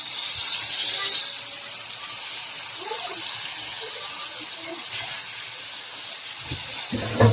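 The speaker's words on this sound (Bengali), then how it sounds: "এইটাতে এই যে মাছ ভাজা বসাই দিতেছি" Fish frying in a pan gives a strong, broad hiss that eases after the first second into a steady sizzle, with a few faint knocks and a clatter near the end.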